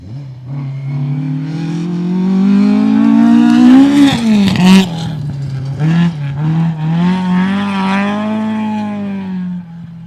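A loud rally car engine roars close by on a special stage of the 2021 Canterbury Rally, its pitch climbing and dipping through hard acceleration and gear changes as it speeds past.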